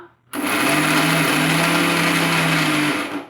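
A mixer grinder grinding peanuts and jaggery starts abruptly and runs as a loud, steady, high-pitched whine for a few seconds, then cuts off and winds down.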